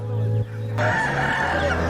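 A rooster crows loudly and close by at a rural market, a long drawn-out call filling the short clip, with clucking from other fowl around it.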